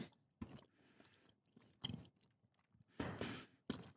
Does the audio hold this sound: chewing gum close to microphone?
yes